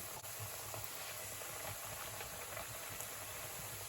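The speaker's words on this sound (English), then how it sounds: "So I'm just frying these now until they become very crispy." Steady, soft crackling and sizzling of green plantains frying in hot oil, with faint bubbling and occasional small pops.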